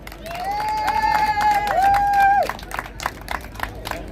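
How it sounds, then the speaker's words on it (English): A rally crowd breaks into applause and cheering, sustained clapping from many people under a long shouted whoop, then thinning to scattered claps. "let's give him a big, warm round of applause."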